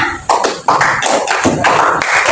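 Students clap in a classroom clap-counting game, giving a few sharp, loud claps in quick succession, close by, with no voices over them.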